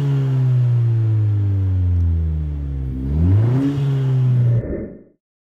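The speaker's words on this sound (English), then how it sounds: "Put a couple revs on my phone too." A 10th gen Honda Civic Si engine revving up close, a loud rising and falling mid-pitched drone with a second sharp rev near the end before cutting off to silence.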